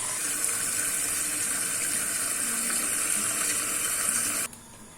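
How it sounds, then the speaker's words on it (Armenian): Tap water running and splashing as meat is rinsed for harissa, a steady close gushing stream that cuts off abruptly just before the end, with no speech. "Ահա այսպես ջուրը թափում ենք։ Նորից միսը լավ պարզաջրում, վրան ավելացնում ջուր"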